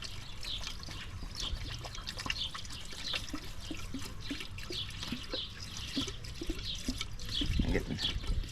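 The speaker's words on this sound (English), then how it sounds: "I'm getting garden hose sputtering." Water trickles and sputters in uneven bursts from a garden hose during a heater hose swap on a Honda Integra, with soft dripping throughout and voices talking nearby.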